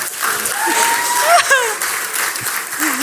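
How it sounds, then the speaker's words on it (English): Thin, scattered audience applause, half-hearted and brief, heard under talking and laughter on a podcast. "did they do that really half-assed applause?"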